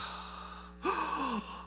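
A person imitates the heavy, labored breathing of a sick woman missing one lung: a single drawn-out, strained gasping breath, close and fairly quiet over a steady background hum.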